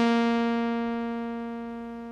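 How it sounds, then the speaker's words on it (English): A single analog oscillator on Reason's Thor synth with an initialized patch holds one steady buzzy tone rich in even harmonics, alone and gradually fading in level toward the end. "what that will do is give us a single analog oscillator, which at the moment sounds like this."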